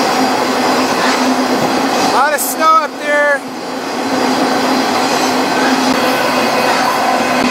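A long freight train rolls along snowy rails toward Denver with a steady, loud rumble of wheels. Brief metallic squeals cut through midway, and someone speaks briefly over the noise.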